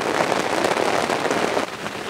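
Rain falls on a tent after campers in Palermo, Sicily, wake to water leaking in. A dense, steady patter and hiss runs throughout, close and even, then eases slightly near the end.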